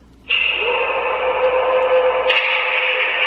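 A sustained electronic tone with a buzzy, synthetic warble from a Star Wars BB-8 toy playset plays alone for a few seconds, shifting pitch slightly partway through.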